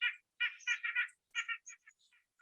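Birdsong played back from a phone into the Merlin app: short bursts of chirpy, warbling notes in quick phrases with brief gaps, faint and clean with no background.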